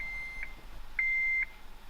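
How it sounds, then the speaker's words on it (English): Seatbelt warning chime inside a Honda DC5 RSX with the key in the ignition: a short electronic beep followed by a longer sustained tone, steady pitch, close and clear over a quiet cabin. "this thing just doesn't stop with the beeping"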